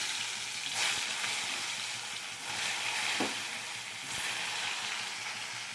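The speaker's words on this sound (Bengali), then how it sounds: "পটল কটাকে ভেজে নিয়ে আগে।" Pointed gourd (potol) frying in oil gives a soft, steady sizzle and crackle, faint and close, with a few small clinks and stirring touches.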